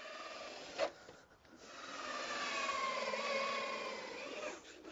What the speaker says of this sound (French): Ensuite, Tim ponce légèrement l'ouverture pour introduire plus facilement les lampes.